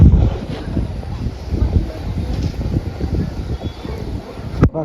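Strong gusty wind buffets the microphone in a village during a storm, a loud low rumbling roar that surges and eases in gusts, and a voice can be heard faintly.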